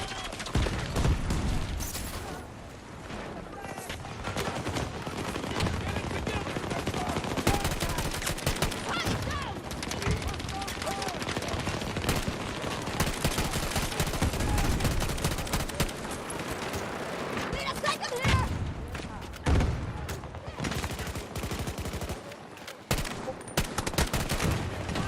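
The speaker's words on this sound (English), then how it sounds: "Boy, who's shooting behind me?" Dense gunfire in Battlefield 2042 on PS5: rapid bursts and a continuous fusillade from several weapons fill the whole stretch, loud and busy, with a voice now and then under the shooting.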